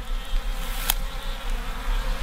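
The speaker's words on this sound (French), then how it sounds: "on voit, il y a quand même des faux bourdons," Drone honeybees at a beehive give a dense, steady buzz that is close and continuous, with no talking over it.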